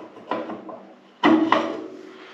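A wood burner stove door is being fitted, with a light metallic knock followed by a louder clunk and rattle of the door going into place, close by and without voices.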